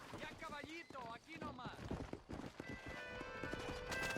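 Horse hooves clip-clop rhythmically in the Western video game Red Dead Redemption, with a horse whinnying and voices talking over the steady hoofbeats.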